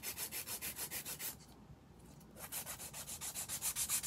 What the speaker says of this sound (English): So I'm using a finer hand file because this product, it is softer than regular acrylic.